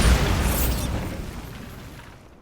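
A loud spell blast bursts at once in Hogwarts Legacy, a deep boom with a crackling high burst that fades into a rumbling tail over a couple of seconds.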